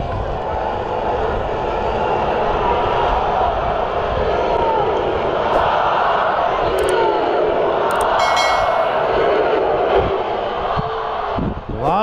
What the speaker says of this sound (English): But we're gonna do some crowd noise today.